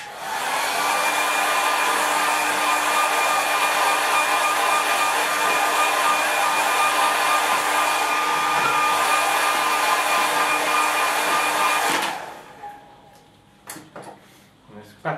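A hair dryer blows steadily and loudly on watercolour paint on paper, a constant whirring roar that runs for about twelve seconds and then cuts off, leaving a few faint clicks and handling noises.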